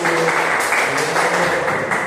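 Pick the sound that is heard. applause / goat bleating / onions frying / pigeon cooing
applause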